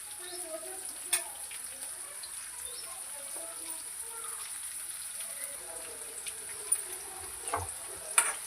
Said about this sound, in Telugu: ఇలా మధ్య మధ్యలో కలుపుకుంటూ ఫ్రై చేసుకోవాలి